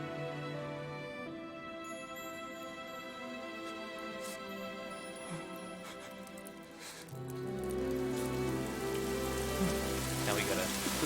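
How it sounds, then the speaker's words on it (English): Rain in the video game Fire Emblem: Three Houses, a soft, steady patter of falling rain under layered music with sustained tones, growing somewhat fuller toward the end. "Now it starts to rain."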